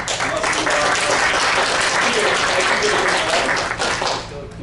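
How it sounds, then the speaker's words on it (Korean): A church congregation gives loud, sustained applause to welcome guests at a worship service, a dense wash of clapping close by with faint voices mixed underneath. "오늘 박수로 환영하겠습니다"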